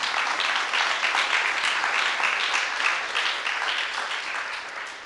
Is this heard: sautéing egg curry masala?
no